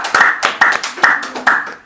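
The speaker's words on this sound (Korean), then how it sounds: "박수 한번 칩시다." A small Buddhist weekend meditation gathering applauds the dharma teacher's exchange, with clustered bursts of hand claps pulsing in about five quick waves over two seconds, close and fairly loud with no talk.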